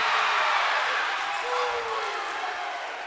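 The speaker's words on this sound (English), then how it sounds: "And the crowd goes wild." A volleyball crowd in a school gym at a varsity match roars and cheers in a dense, sustained wash of noise that slowly fades, with voices shouting within it.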